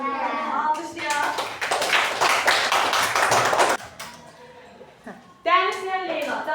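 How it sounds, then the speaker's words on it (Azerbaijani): Fourth-grade classroom bursting into applause for a correct answer, a dense run of children's clapping lasting a few seconds, with children's voices talking and calling out before and after it. "Düz yazdım uşaqlar. Alqışlayaq."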